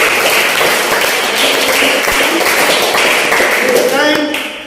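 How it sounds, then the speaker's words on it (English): Audience clapping at a chess league prize ceremony, a dense, loud, continuous patter of many hands under a voice speaking nearby, tapering slightly at the close. "All of you give big clap."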